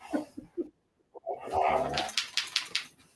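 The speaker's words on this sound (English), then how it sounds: "Oh, the dogs are wrestling back here." Dogs wrestling together nearby, with bursts of whimpering, yelps and scuffling over a few seconds. A brief quiet gap falls in the middle before the rough play picks up again.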